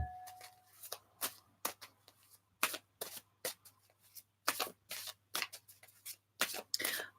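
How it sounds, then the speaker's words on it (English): A tarot deck is shuffled in a run of crisp, rhythmic riffling bursts, about a dozen quick card flurries close up with short pauses between them, no talking over it. "I'm going to give these a good shuffle now"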